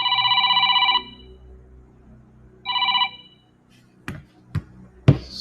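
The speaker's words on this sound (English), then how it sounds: "The phone was ringing." A telephone rings twice during a live sports-betting talk, each burst a trilling electronic ring about a second long with a pause between, followed by a few sharp knocks and handling thumps nearby.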